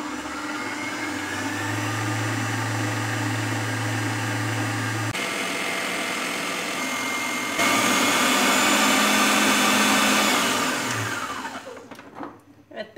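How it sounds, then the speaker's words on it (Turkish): Electric hand mixer whipping butter and powdered sugar for red velvet cake frosting, a steady loud motor whine running for several seconds, shifting pitch as speed changes, then winding down to a stop with a few clatters. "Pudra şekeri eriyene kadar yağı bir güzel çırpacağım."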